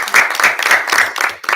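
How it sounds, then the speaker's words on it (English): Short burst of applause from a small group at a school board of education meeting, a few people clapping close by with uneven rhythm for under two seconds. "I think we just need a round of applause."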